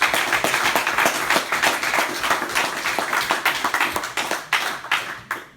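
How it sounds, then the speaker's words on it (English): An audience applauds a speaker at the close of a JavaScript interview talk, a dense burst of clapping that stays steady and fairly loud and then thins into scattered claps near the end. "another round of applause for Fox."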